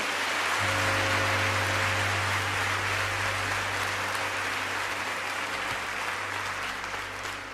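Congregation in a church service applauding steadily throughout, a dense even wash of clapping with a low steady hum underneath and no talk.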